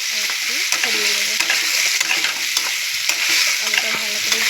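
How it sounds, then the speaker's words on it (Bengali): Potatoes frying in a pan with turmeric and salt, a steady loud sizzle with repeated scraping and clinking of a spatula stirring throughout. "আলুটা ভালো করে ভেজে নেবো"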